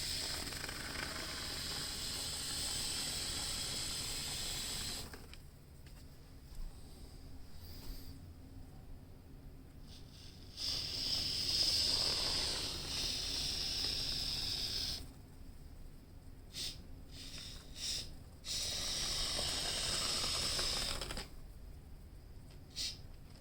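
Spray foam sealant hisses out of a can into a gap around a window in bursts of soft airy spray a few seconds long, separated by quiet pauses, close but fairly faint, with no voices.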